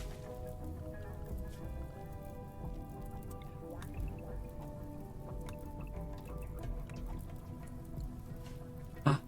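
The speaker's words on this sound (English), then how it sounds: "Oh, it's raining, yes." Rain falls and drips outdoors during hot weather near garden plants, a soft steady patter of drops with scattered louder ticks and one sharper knock near the end.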